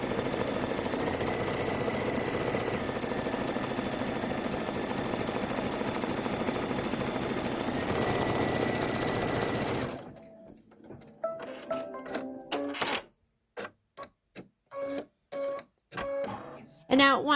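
An embroidery sewing machine stitches a Kimberbell design with a steady mechanical whir for about ten seconds, then falls quiet, with someone talking and short bursts of machine noise afterward.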